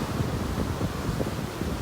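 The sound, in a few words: ocean waves breaking on a beach, with wind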